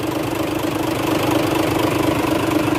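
An Isuzu Gigamax 6WF1 truck engine idles close by, a steady, even diesel drone with a slight rhythmic knock running through the whole stretch, with no talk over it.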